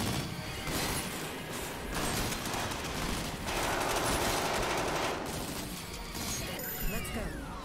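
Rapid automatic gunfire from the video game Mindjack rattles in dense bursts for several seconds, with metallic clatter and a brief crash near the end, heard up close alongside game sound.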